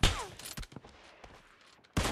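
Gunfire in PUBG Mobile Lite during a team deathmatch, a loud burst opening the moment, scattered fainter shots and impacts in between, then another sharp burst at the end.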